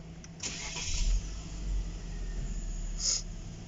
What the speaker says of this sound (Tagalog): Lumakas na yung kanyang makina.